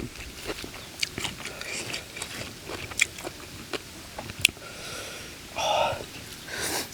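Crunchy biting and chewing on spicy pounded apple snails, a Thai-style salad, with sharp crackling bites scattered through close, quiet mouth sounds and a soft breathy gasp near the end.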